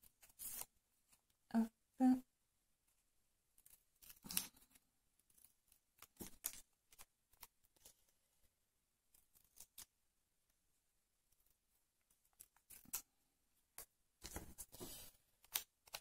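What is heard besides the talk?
cutting paper with pinch scissors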